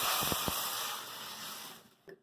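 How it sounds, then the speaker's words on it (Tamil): Water pours with a steady hissing gush into a pan of ground rasam paste with sautéed onion and garlic, tapering off near the end. "அந்த அரைச்சி வச்சு தண்ணி ஊற்றிடலாம்."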